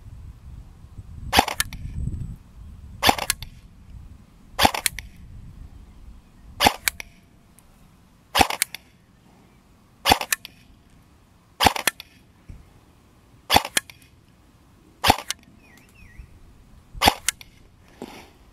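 A BO Manufacture AKM13 airsoft rifle fires ten semi-automatic shots of bio BBs while kneeling at 20 metres, sharp snapping cracks evenly spaced under two seconds apart, close and crisp against a quiet background.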